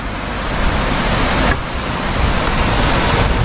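A mountain river on the Kareri Lake trek in the Dhauladhar range rushes steadily as a loud, dense, continuous roar of flowing water.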